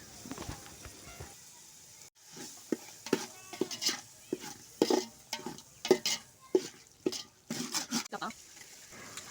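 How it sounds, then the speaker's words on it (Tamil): Curd stirred into sautéed tomato and ginger in a pan, a run of close, uneven scraping and clacking strokes over a faint sizzle, with short pauses between strokes. "இப்போ வந்து தயிர் சேர்த்து கிளறிக்கலாம்"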